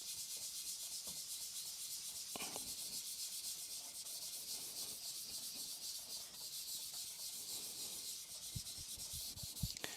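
A rust eraser is rubbed over a whetstone to clean its surface, a quiet, continuous dry scrubbing with a few sharper scraping strokes, close up and alone.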